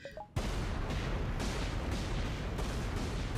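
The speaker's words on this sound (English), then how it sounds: "There's the screen-clearing explosion." A screen-clearing explosion in the video game Shantae and the Seven Sirens erupts suddenly as a loud, dense roar of repeated booming blasts that rumbles on without a break.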